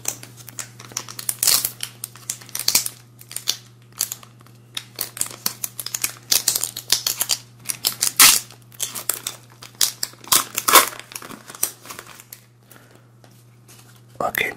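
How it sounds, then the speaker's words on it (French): Pokémon card booster packs for a Melmetal-GX box being torn open and handled up close, with crisp crinkling foil, scraping and rustling in irregular bursts against quiet gaps, accompanied by soft French talk in an ASMR setting. "Alors maintenant, on va ouvrir également les boosters."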